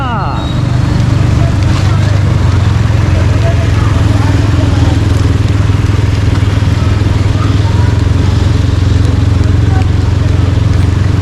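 A motorcycle engine runs steadily through flooded streets in heavy rain on Shahra-e-Faisal, a loud continuous low rumble with rushing water and wind noise throughout, close to the microphone.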